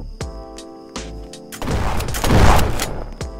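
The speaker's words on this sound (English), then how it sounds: "Just listen to the gunshots." Gunfire inside a Roblox prison game, sharp repeated bangs over a droning music-like bed, building into a dense burst of louder crashing shots near the end.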